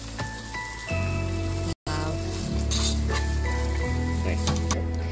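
Chopped onion and tomato sizzle steadily as they sauté in a hot pan in a home kitchen, a continuous close frying crackle with a low hum underneath and one brief dropout partway through.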